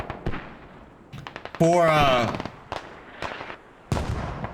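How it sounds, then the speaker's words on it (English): Mortar shells burst repeatedly across a Squad battlefield in a competitive match, sharp booming blasts landing several times at irregular intervals, with a voice talking over and between the impacts. "You see, mortars still landing all over the place"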